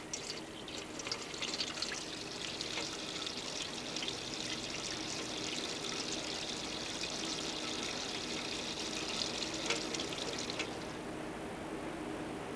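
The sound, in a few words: water running from a faucet during handwashing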